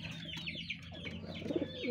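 A breeder pigeon hen coos softly in a loft of speed and long-distance racing pigeons, low murmuring coos with a few brief higher chirps, faint and close with no voices over it.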